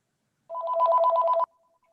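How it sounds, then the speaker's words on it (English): A telephone bell rings at an officers' installation event, one continuous rapid trilling burst lasting about a second, clear and alone with no talk over it. "Somebody's bell is ringing."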